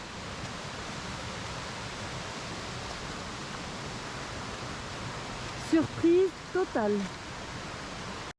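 A river rushes through the Fataua valley in Tahiti as a steady, dense wash of broadband water noise, with a brief voice speaking over it near the end.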